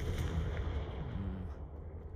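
A Confringo explosive spell goes off in Hogwarts Legacy on PS5 as a deep, rumbling blast that fills the moment and slowly fades, with a faint tonal sweep partway through.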